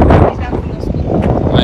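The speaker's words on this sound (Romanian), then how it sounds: "Da, bate vântul aici." Wind gusts buffet the microphone outdoors with loud, low, rumbling bursts that rise and fall, and a voice talks under the buffeting.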